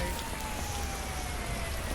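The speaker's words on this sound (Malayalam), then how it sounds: "നല്ല മഴ ഉണ്ട്" Rain falls in an Indian Theft Auto game, a soft, steady hiss of rainfall that stays even and fairly faint from start to finish.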